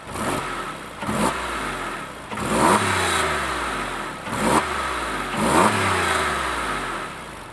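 A Porsche 911 engine revs repeatedly, rising and falling in pitch with each press of the throttle, loud and close, settling briefly between revs.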